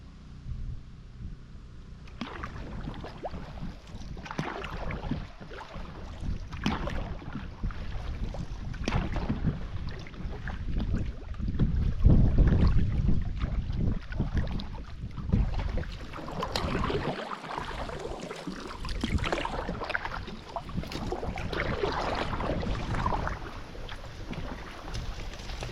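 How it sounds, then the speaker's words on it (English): Canoe paddling on the Big Fork River: steady water swishes and paddle strokes under continuous outdoor wind noise, fairly close and moderately loud, with no talking. "Paddling"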